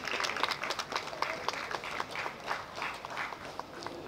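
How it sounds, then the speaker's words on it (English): Audience applause at a university women's week event for the college head, steady clapping from a crowd lasting a few seconds, moderately distant with some voices mixed in. "A round of applause for her."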